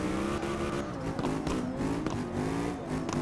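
A drift car in CarX Drift Racing Online on PS4 accelerates hard, its engine droning and rising in pitch over dense tire and road noise, loud and continuous.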